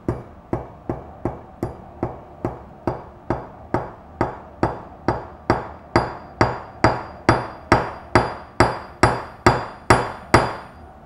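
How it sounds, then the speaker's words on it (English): Steady hammer blows ring out on copper laid on a steel block, about two per second, sharp and clanging with a bright metallic ring, close and loud, no talking. "I'm going to put it on top of this piece of steel and see if I can actually hammer it out."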